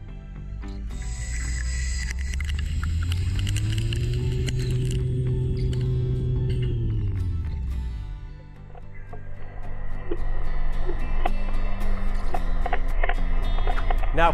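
A CNC lathe parting-off insert cuts dry without coolant, giving a steady tonal hum that rises in pitch, holds, then drops away, followed by a busier rattle of machine and chip noise.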